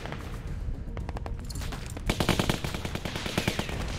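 Automatic weapon gunfire in The Walking Dead Season 2 game, rapid bursts of close, sharp shots that break off briefly and then return louder and denser.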